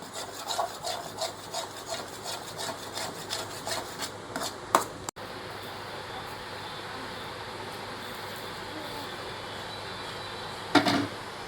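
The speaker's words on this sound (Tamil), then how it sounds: "அப்படியே கிண்டிக்கிட்டே இருக்கணும் கைவிடாமல் கிண்டணும்" A spoon scrapes and rubs steadily through thickening kesari semolina sweet in a pan, in rhythmic strokes for the first few seconds, then a continuous grainy scraping texture with one brief knock near the end.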